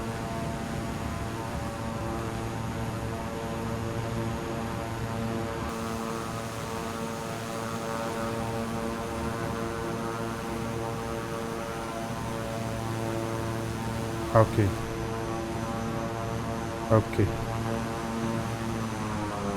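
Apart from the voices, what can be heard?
propeller airplane flying in a video game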